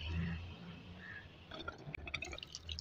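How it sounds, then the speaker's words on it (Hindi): Water starts running from a repaired faucet after a spindle fix for a leak, a faint splashing and trickling with scattered drips that grows busier in the second half, following a low rumble at the start. "ये देख ले पानी चल गया"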